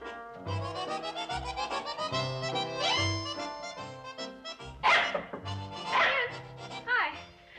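A dog barking at a possum in the woods, a series of sharp barks in uneven bursts, faint and distant, with people talking over and between them.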